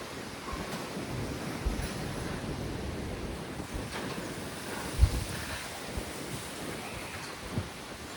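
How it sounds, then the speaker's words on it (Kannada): Strong wind roars outdoors in a steady, rushing wash of noise with gusts buffeting the microphone and a few low thumps, loud and continuous. "ಗಾಳಿ ಮಾತ್ರ ಭಯಂಕರ ಐತ್ರಿಪ್ಪ."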